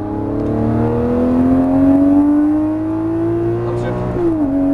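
A Lamborghini Murciélago on a Las Vegas exotic car track screams at full throttle, its engine note climbing steadily, loud and close, before a brief dip as it shifts.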